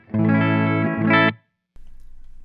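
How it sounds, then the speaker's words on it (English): A clean electric guitar chord rings out through a clean pedal-platform amplifier for about a second, then stops abruptly, followed by a low amp buzz. "basically what it is a very clean sounding pedal based or pedal platform amplifier"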